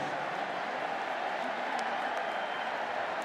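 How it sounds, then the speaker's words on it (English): Home football crowd giving mocking applause at a Georgia stadium game after a cleanly fielded punt, a steady distant wash of clapping and crowd murmur with no distinct voices. "You can hear kind of a mocking applause from the home crowd to Ladd McConkey fielding that punt cleanly."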